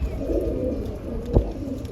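Pigeons coo softly and repeatedly nearby, with low throaty murmurs over a faint ambient background.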